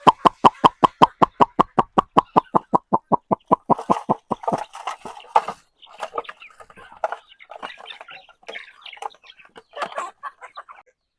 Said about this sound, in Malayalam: ഇതൊക്കെ പഞ്ചായത്ത് കോഴികളാണ്.